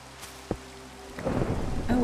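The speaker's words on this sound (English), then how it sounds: "Oh, it's thunderstorming." A thunderstorm in the Minecraft video game, with a faint early rumble and a sharp crack, then rain swelling to a steady patter over the last second.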